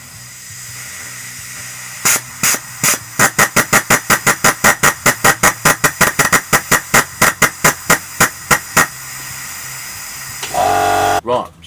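Compressed air blowing off through an oil pressure valve, heard as about thirty sharp rhythmic hissing pops in quick succession, close and loud, ending in a short steady blast of air.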